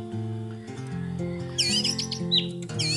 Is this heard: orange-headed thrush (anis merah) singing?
yes